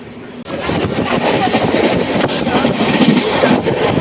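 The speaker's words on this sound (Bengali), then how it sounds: "দু মিনিট স্টপেজ রেখে চলে যাচ্ছে আমাদের ট্রেন" A Duronto express train pulls away from Bardhaman station after a two-minute halt, its coach rumbling and rattling steadily on the rails close by, continuous and loud with faint clattering through the run.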